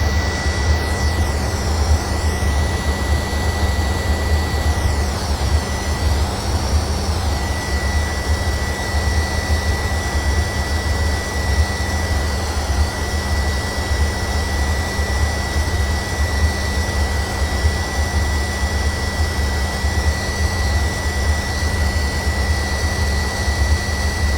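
An old Avro Vulcan jet bomber comes in to land, most likely in a flight simulator: a loud, steady, unbroken jet engine roar with a whining high tone that rises and falls, carrying on alone for the whole stretch.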